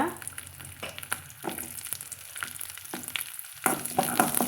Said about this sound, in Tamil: அந்த எண்ணெயில் கருவேப்பிலை வேக சேர்த்திக்கலாங்க சேர்த்திட்டு அது கூடவே நம்ம சின்ன வெங்காயத்தை வந்து போட்டு வதக்கலாங்க